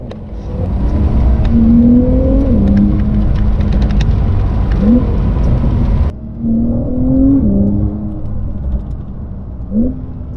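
A 2019 Porsche 911 992 Carrera 4S engine humming and revving up under acceleration in bad weather, loud and close, with rising whine tones repeating as it pulls through the gears.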